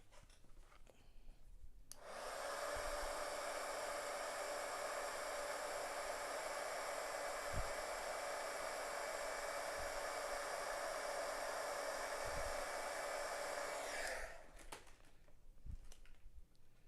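A heat tool blasting hot air to melt embossing powder on a handmade card, a steady close whooshing roar that starts abruptly and runs about twelve seconds before cutting off, with faint tapping beneath.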